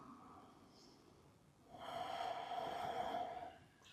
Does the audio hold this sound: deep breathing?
yes